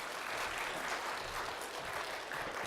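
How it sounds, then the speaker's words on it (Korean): A church congregation applauding, a dense, even wash of many hands clapping together that holds steady and fairly loud throughout, without any voices over it. "다시 한번 박수로."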